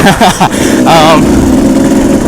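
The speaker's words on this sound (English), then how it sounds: "It's a 1997 Kawasaki KDX 220." A 1997 Kawasaki KDX 220 dirt bike with an FMF Gnarly pipe and Powercore 2 silencer idles with a raspy, steady putter, close by, while a voice speaks briefly over the start.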